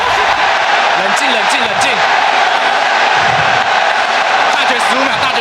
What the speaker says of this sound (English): This crowd is lighting up and ready for AHQ to take a victory